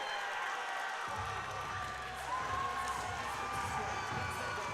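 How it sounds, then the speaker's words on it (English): Fans at a Pinnacle FC MMA event cheer and roar as the fight ends, a loud, sustained crowd din with whoops rising above it. "The crowd goes crazy."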